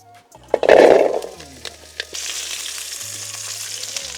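Onions frying in oil for a Mettur-style fish curry, with a loud burst of sizzling as they hit the pan, then a few clinks and a steady hiss continuing close up with no talking.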